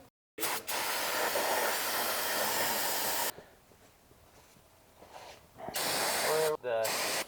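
Brake cleaner sprays in a loud, steady aerosol hiss for about three seconds during work on a Katech LS7 twin-disc clutch install, followed by quieter shop sounds and two more short bursts near the end.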